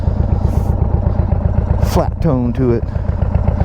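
A loose exhaust on an idling 2022 Indian Chief motorcycle rattles in a steady low clatter close by, while someone talks over it for most of the stretch.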